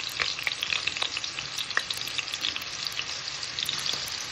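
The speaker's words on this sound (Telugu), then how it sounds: "అది కొంచెం వేగాక ఆలూస్ వేసుకొని కొంచెం లైట్ బ్రౌన్ కలర్ వచ్చేదాకా వేసుకోవాలి" Potatoes frying in oil until light brown, a dense, continuous crackling sizzle heard up close, steady in loudness with fine popping bursts throughout.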